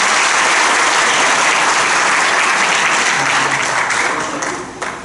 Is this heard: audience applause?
yes